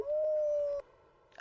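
A dog gives a single sustained howl, a clear steady tone held for nearly a second that then cuts off, close and loud, followed by quiet room sound.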